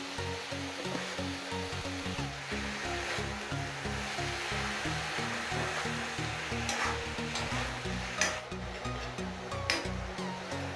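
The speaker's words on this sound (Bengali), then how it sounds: "মাশরুমটা ভাজতে গেলে দেখা যাচ্ছে জল বেরোচ্ছে" Mushrooms soaked in salt water frying in a pan for mushroom masala curry, a steady hissing sizzle as they release their water, with occasional stirring scrapes and clinks.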